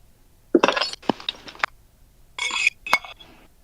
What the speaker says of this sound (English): Were you messing around with plates?